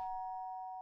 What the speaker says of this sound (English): My parents don't ring the doorbell.